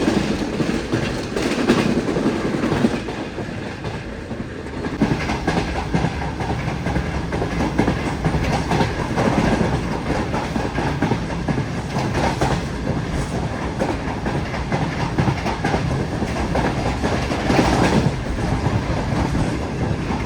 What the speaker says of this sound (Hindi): काफ़ी अच्छी स्पीड में ट्रेन ने स्किप किया है शेरशाह जंक्शन को